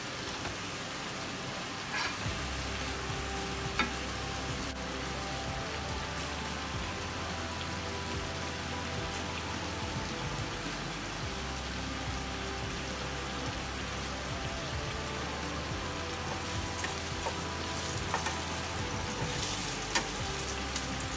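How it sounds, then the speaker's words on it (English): Chicken pan-roasts in a frying pan, giving a constant crackling sizzle like light rain, with occasional sharper pops and no talking. "This is how I pan roast the chicken."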